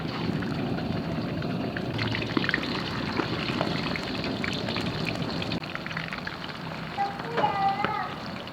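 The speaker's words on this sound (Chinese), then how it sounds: "下锅炸。" Rinsed beef tongue drops into a pot of hot oil to fry before red-braising, giving a steady, fairly loud bubbling sizzle that runs through the whole stretch, with a voice talking over it.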